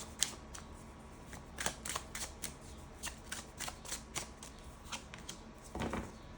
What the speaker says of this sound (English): I'm gonna get a couple more cards.